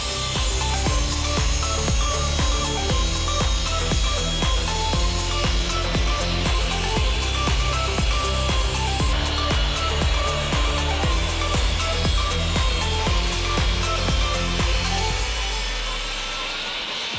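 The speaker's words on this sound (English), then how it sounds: "Let's grab those four pieces and cut them." A table saw cuts cabinet pieces for modified RTA cabinets, a loud continuous motor hum with steady blade noise throughout that winds down near the end.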